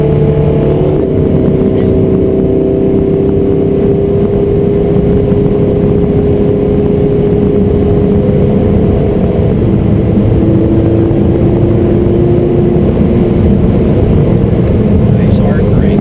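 A Can-Am Spyder three-wheeler accelerates on a race track, its engine a loud, steady close-up drone with rising tones, while an instructor talks over it.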